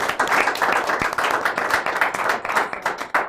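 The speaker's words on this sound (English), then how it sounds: "Give her a round of applause." An audience claps steadily through the whole stretch, a dense, continuous patter of many hands at moderate loudness with no talk over it.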